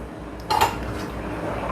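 A spoon clinks against dishes in a home kitchen during soup cooking with tofu, a single quick bright clatter of cutlery on crockery, close and brief amid quiet background.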